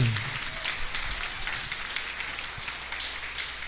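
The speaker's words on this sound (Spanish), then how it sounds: "Denle un fuerte aplauso al Señor" A church congregation applauding: sustained, dense clapping that holds evenly throughout, moderately distant and fairly soft, with no voices standing out.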